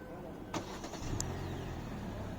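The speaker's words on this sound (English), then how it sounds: "the engine is started and running with the air conditioner on" A Hyundai Alcazar engine starts by remote key fob with the car locked, giving a sharp crank followed by a steady low idle with the air conditioner running, heard close by.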